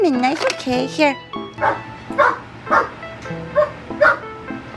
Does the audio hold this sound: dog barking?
yes